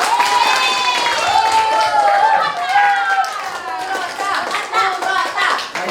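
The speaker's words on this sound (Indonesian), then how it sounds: "Kita berikan aplaus untuk semuanya." A classroom of children applauds after group presentations, a sustained burst of many hands clapping together, lively and close, with a few young voices mixed into the rattle.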